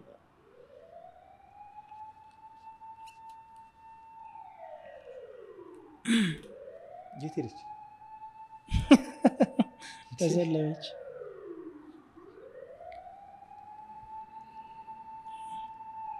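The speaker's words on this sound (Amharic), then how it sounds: "አምቡላንስ ይመላለሱ።" Ambulance sirens pass outside a podcast studio, their wails sweeping up and down steadily from a distance beneath the room's quiet conversation, with a few nearby knocks and clatters partway through.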